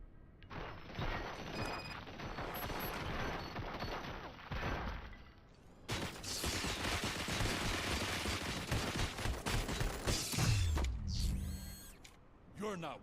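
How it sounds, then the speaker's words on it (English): Sustained rapid gunfire in the video game RoboCop: Rogue City, a dense stream of shots and mechanical clatter with a brief break midway, then more bursts, loud and continuous with faint voices mixed underneath. "Fire at will."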